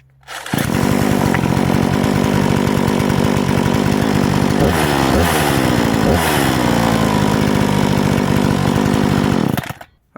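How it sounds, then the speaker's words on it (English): Parkside PPKBS 56 petrol chainsaw started with its pull starter, catching almost at once and running loud and close at a steady idle, with a few quick throttle blips in the middle before it cuts off. "Let's test the pull starter also."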